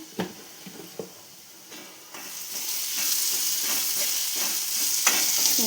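Egg puff filling spiced with garam masala and chilli powder is stirred in a frying pan, a steady sizzle with a few sharp spoon scrapes early on, growing slightly louder and denser toward the end, with no talking.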